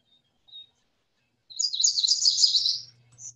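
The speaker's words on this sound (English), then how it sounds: "Another warbler in the bushes behind the butterfly." A warbler sings from bushes in the Pine Barrens, a bright burst of rapid high chirping notes lasting over a second after two brief faint chips, with one more short note at the end, close and clear against quiet.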